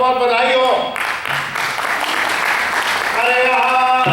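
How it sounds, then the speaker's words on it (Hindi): Audience applause at a Holi celebration in Houston, a dense wash of clapping in the middle stretch with a musical tone and a voice at the start and end. "तालियों से स्वागत करना आप सभी इस बात का"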